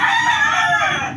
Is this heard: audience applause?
no